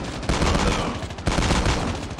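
Shotgun fire in the mobile game Call of Duty Mobile: two loud, close, heavy blasts about a second apart, each trailing into a dense rumbling roar.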